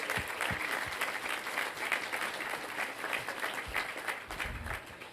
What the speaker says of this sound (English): So please, a huge round of applause for all of them.